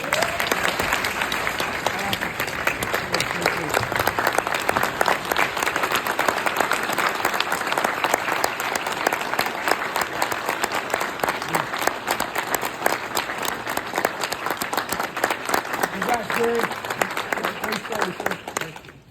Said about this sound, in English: Let us give a hearty round of applause for Captain Campbell's induction into the Hall